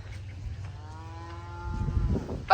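Cattle out of their pasture give a single drawn-out moo, close and clear, which swells into louder, rougher lowing toward the end over steady low background rumble.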